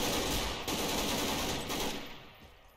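A dense, continuous rattle of automatic gunfire comes from SWAT NPCs shooting at Mr. X in Garry's Mod, steady and loud, then it thins and fades toward the end with no talk.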